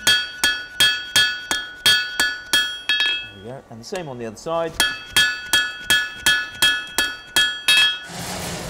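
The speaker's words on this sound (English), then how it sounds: "if I can just do that with the hammer" Blacksmith's hammer striking a hot tie bar over the hardy hole of an anvil, a steady run of sharp ringing blows that pauses while someone speaks briefly, then resumes the same regular rhythm, close and loud.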